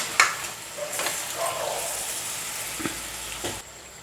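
Chicken fries in oil in a pan, giving a steady soft sizzle broken by a few scraping stirs, close and moderately loud, with no talking.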